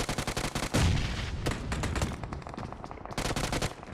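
Rapid automatic gunfire from M16 and M249 rifles in the mobile shooter PUBG Mobile, loud and close, with dense overlapping bursts rattling almost continuously and a brief lull before a final volley.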